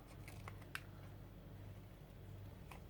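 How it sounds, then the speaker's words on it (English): Faint, sparse snips of small curved nail scissors cutting paper, a few quick crisp cuts spaced irregularly over a low steady hum. "nail scissors for the fussy cutting"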